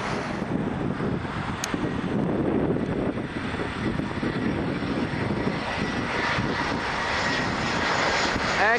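Airliner jet engines roar steadily at Toronto Pearson airport, a loud continuous broadband rumble with wind buffeting the microphone, as an Air Canada jet lands and a Hainan flight passes nearby.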